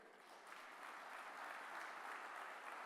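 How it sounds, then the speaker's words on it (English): Audience applause at the opening of day three of the ITCX 2025 conference, a dense, even patter of many hands clapping that builds slightly and holds steady for a few seconds, heard from a distance without talk. "I want you all to let them know through your claps if you loved the event."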